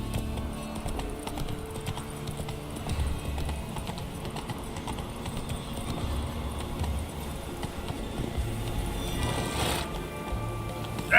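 Geralt's horse Roach in the video game Witcher 3, hooves clip-clopping in a steady, continuous rhythm across the whole stretch, fairly close and even in loudness, with a brief brighter burst near the end.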